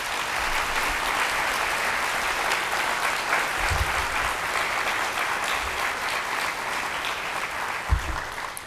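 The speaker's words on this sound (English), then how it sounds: "I just hope that we could all give them a round of applause" Steady, dense applause from a large audience at a 2019 space summit, filling the whole stretch at an even level with a few low thumps, fairly distant and without voices.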